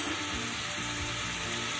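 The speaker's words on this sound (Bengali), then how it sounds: "দুটো মাছ আমি এই মশলার মধ্যে একটু ভেজে নেব" Two baby hilsa fish fry in spiced masala over a lowered gas flame, giving a close, continuous sizzle and crackle with no pauses.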